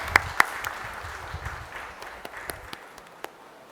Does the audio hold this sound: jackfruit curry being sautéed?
no